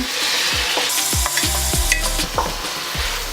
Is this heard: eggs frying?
yes